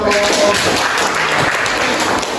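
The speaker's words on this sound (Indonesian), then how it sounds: "Oke, tepuk tangan buat" A classroom group claps after finishing a presentation, giving a brief burst of loud, close applause that stays fairly even before tapering slightly at the end.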